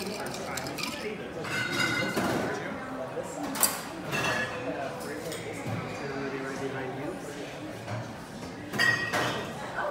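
Ice clinks and rattles in a glass as a cocktail is stirred tableside in a restaurant, light chinks and taps running under ongoing conversation from people nearby.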